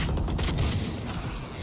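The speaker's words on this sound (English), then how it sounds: "A lot of gunfire and util being thrown out." Valorant gunfire crackles in a dense, rapid flurry of shots with a mechanical rattle, fairly quiet and brief.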